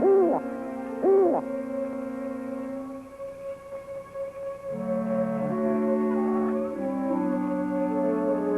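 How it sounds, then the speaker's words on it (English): An owl hoots twice, loud and close at the start, each a wavering tonal call, followed by sustained low tonal sounds over a quiet background. "He's only an old hooty owl."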